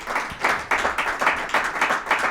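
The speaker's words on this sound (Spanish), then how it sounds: "Un aplauso para mi mujer," An audience at a masterclass claps in steady, rhythmic unison, with evenly spaced bursts of hand claps repeating close and clear for a couple of seconds, no voices over them.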